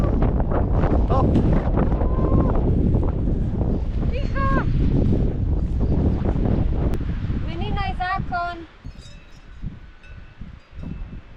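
Strong wind buffets the microphone on Goli vrh, a mountain summit in Slovenia, roaring loud and close as people talk over it, then easing in the last few seconds.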